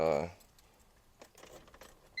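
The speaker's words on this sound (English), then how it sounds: "I got too many keys. I don't know which one is which." Keys on a crowded key ring jangle in a short metallic rattle, loudest in a brief burst at the start, then faint scattered clinks follow and a final rustle closes.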